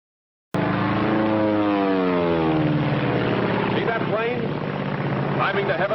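A Mitsubishi A6M Zero fighter's propeller engine drones loudly after a sudden start, its pitch sliding and wavering as the plane flies past. Talk comes in near the end.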